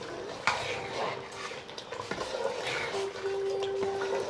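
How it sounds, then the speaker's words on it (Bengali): Mutton biryani is stirred in a pot, giving soft scraping and sloshing strokes with a few sharper knocks of the utensil against the metal, heard close over a low kitchen background. "এখন একটু নেড়ে নেব।"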